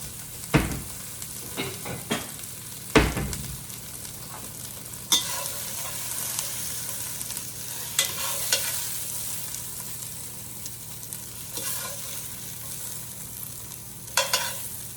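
Green beans in a pan being stirred, with a steady background sizzle and scattered scrapes and knocks of the utensil, a couple of louder clanks early on, heard close with no talking.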